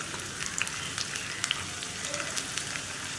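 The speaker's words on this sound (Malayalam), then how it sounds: "അപ്പോൾ എണ്ണ ചൂടായി വന്നിട്ടുണ്ട്. നമുക്കിതിലേക്ക് റൗണ്ടിൽ കട്ട് ചെയ്ത് വെച്ചിരിക്കുന്ന ഉള്ളി," Round-cut onions and mustard seeds frying in hot oil, a steady soft sizzle with faint crackles and pops throughout, no voices.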